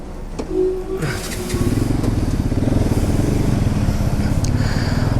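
A Bajaj Pulsar NS200 motorcycle pulls away and rides on, its engine settling into a steady, close, rhythmic thrum after a second of quieter idle with a few light clicks.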